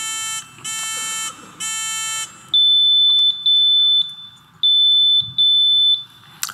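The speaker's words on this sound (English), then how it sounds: "let's test the rest of the buzzers as well," Several loud electronic quiz buzzers being tested at a National Science Bowl match, one after another, first three harsh pulsing tones, then a series of sharp, short high-pitched beeps, close and clear.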